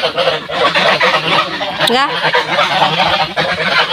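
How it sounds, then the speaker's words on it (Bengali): Domestic ducks honk and quack in a loud, continuous flock chorus while being herded toward a village pond ghat in the morning, with a voice talking briefly over the birds. "সামনেই হলো ঘাট, তো ঘাটে যাচ্ছে হাঁস।"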